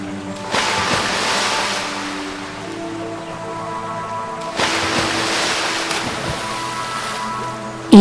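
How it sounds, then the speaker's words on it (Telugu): Water rushes into a sinking boat in an animated jungle story, with two loud surging washes of water over a steady rumbling roar and no voices. "ఇంకా పడవ మునిగిపోతుంది."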